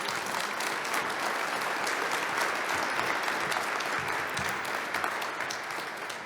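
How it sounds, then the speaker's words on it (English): A warm, sustained round of applause for the panelists at a supplier roundtable leadership panel, dense and continuous from a room full of people, tapering slightly at the end. "Could we give a warm round of applause to our panelists?"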